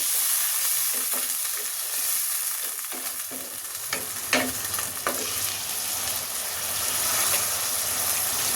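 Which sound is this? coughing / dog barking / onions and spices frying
onions and spices frying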